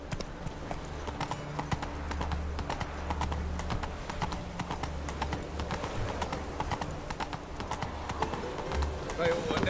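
A horse gallops in The Witcher 3, with rapid rhythmic hoofbeats thudding steadily throughout, close and fairly loud, alongside ambient game sound.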